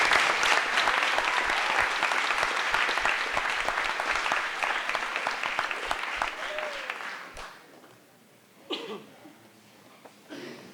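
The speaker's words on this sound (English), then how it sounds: "Let's give them one last round of applause." Applause from a banquet audience at a 1995 football and soccer banquet, a dense crowd clapping for about seven seconds before dying out into a quiet room with a couple of faint knocks.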